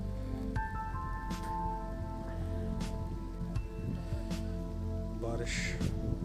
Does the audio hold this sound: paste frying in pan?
no